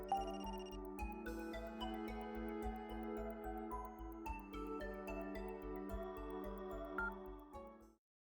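A phone rings in the video game Another Code: Recollection, a repeating electronic ringtone melody set over a steady rhythmic game music bed, continuous and moderately loud for several seconds before cutting off.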